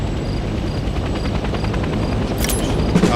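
Helicopter in the Vietnam-era shooter Hell Let Loose Vietnam flying steadily, a continuous droning rotor roar with faint rhythmic chop, loud and close throughout, with a brief brighter burst of noise near the end.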